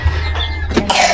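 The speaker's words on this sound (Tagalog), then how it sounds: "Ubo pa rin yan." A single harsh cough bursts out up close, followed by a short rough throat-clearing rasp, loud and alone with no speech.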